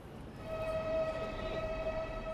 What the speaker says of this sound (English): The first Eurostar train to leave London since Friday night pulled away just after 8 o'clock this morning